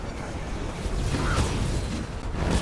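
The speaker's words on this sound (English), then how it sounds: "There's panic explosions there." Dense, continuous rumbling bursts of explosions during the final phase of the Dracula boss fight in the video game V Rising on Brutal difficulty, loud and sustained with no clear gaps.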